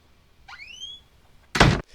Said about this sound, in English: that door slam felt like some finality